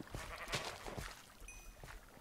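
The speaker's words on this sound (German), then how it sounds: "Nein, ein Schaf lebt noch." Sheep bleating in the Minecraft video game, a few short bleats over a dense, noisy game background, with a thin high tone near the end.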